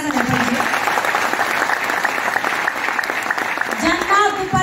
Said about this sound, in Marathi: एकदा स्वतःसाठी जोरदार टाळ्या झाल्या पाहिजे.